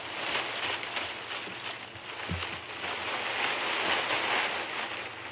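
Plant leaves are shaken by hand outdoors on a safari drive to mimic rain, giving a continuous hissing rustle that swells and eases, with a faint low bump partway through and no talking.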